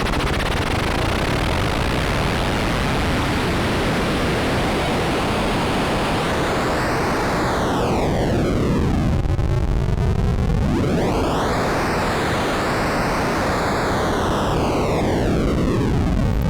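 Dense hiss pours from a Serge CGS31 digital noise module while its oscillator is raised, the noise taking on a sweeping, phasing filter character that dips and climbs again, loud and steady throughout.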